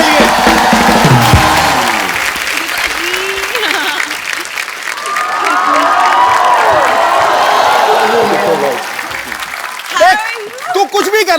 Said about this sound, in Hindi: जोरदार तालियां एक बार टाइगर और जैकी के लिए।